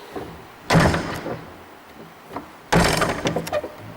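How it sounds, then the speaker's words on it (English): A door is shut twice, each time with a solid thunk followed by rattling and settling clatter, close and fairly loud in a quiet room. "Let's shut this door"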